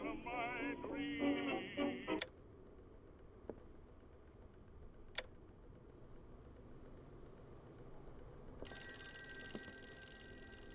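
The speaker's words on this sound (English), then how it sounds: "phone call." In the Call of Cthulhu video game, a telephone rings in trilling bursts at the start, then after a quiet stretch with a few sharp clicks, a bright electronic ring returns near the end.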